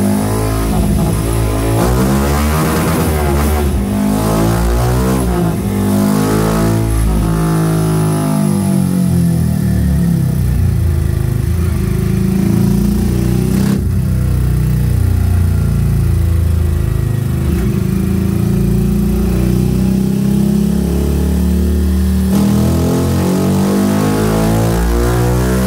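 Remapped-ECU Honda Start 160 motorcycle engine revving hard in repeated loud bursts, rising and falling pitch with steady running between throttle blips, close up and with no talk.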